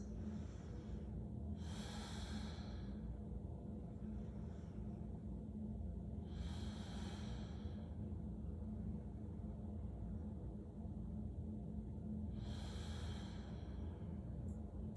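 Slow, deep breaths during a seated yoga twist: three broad breathy swells spaced roughly five seconds apart, soft and close, over a steady low hum with no talking.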